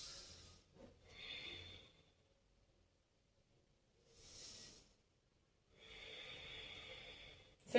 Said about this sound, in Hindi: लंबी गहरी सांस लेंगे।